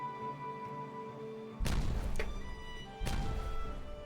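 Explosions in the town-building game Timberborn, two heavy booming blasts about a second and a half apart over a steady background of game music, loud and close.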